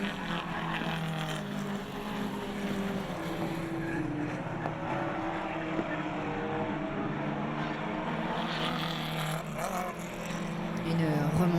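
Historic racing cars at speed on the Ledenon circuit, their engines a steady, dense drone that runs the whole time beneath a commentator's voice.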